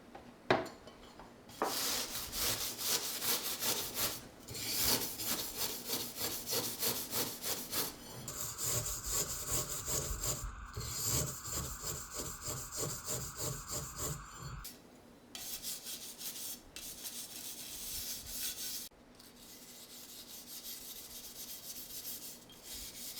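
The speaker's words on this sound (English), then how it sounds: "it was time to wield the scrubbing wand and banish those burn marks from our stainless steel warriors" Stainless steel kitchen knives with burn marks are scrubbed with Bar Keepers Friend, a loud rhythmic back-and-forth rasping that runs in long bursts with brief pauses between strokes.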